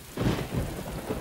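Heavy rain pours steadily while a deep thunder rumble rolls through, close and loud, in a scene from a German radio drama.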